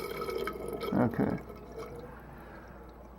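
Water rushes from a broken toilet fill valve that will not stop, then quiets after being turned off; a steady close hiss that fades away, with one brief spoken word near the start.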